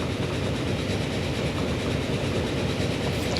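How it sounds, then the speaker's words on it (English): A train running in the video game Transport Fever, a continuous loud rumble of rolling wagons with faint clickety-clack over the rails, steady and close throughout with no voices. "this train should be catching up about now"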